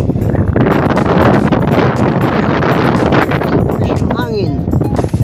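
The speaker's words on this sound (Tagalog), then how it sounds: "Hangin." Wind gusts across the microphone on a road atop a dam near a river, a loud, continuous rushing roar with brief bursts of voices or birds near the end.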